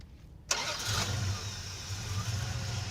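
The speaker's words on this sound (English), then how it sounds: "Starting the motor." A red Plymouth Duster's motor cranks and catches, the sound jumping up abruptly and then settling into a steady low rumble that runs on alone.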